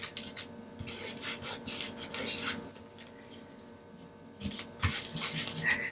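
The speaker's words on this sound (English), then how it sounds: "now all I'm going to do is take some painter's tape and just run it on the back of the whole" Painter's tape pulled and run across the back of resin coasters: close, intermittent bursts of sticky peeling and rubbing, several short strokes separated by brief pauses, with nobody talking.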